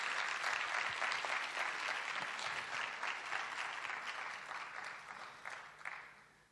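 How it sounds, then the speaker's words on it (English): An audience applauds an expert panel on stage at a conference session on Industry 4.0. Dense, steady clapping from a large room fills the hall, then fades gradually toward the end. "Please, a big round of applause for all of our experts here on the stage."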